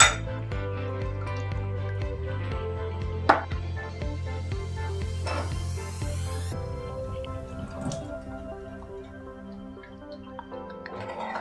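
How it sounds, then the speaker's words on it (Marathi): Water poured into a pan of Malvani curry made with koti fish, a soft liquid trickle with a few light clinks, over a steady tonal background hum. "आता मी थोडं पाणी घालते आणि थोडं पाणी वरती ठेवते."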